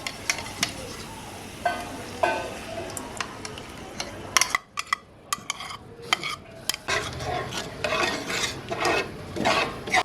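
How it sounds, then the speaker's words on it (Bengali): Whisked yogurt is stirred in a wok over low heat for a Bengali doi begun, giving soft frying hiss under irregular close scrapes and clinks of a spoon against the metal. "দইটা আমরা দিয়া দিছি যেহেতু গ্যাস বেশি জোরে দেওয়া যাইবে না ওর জন্য এই সিমে দিয়া দশ মিনিট ধরে ভালো করে কষাইতে হবে"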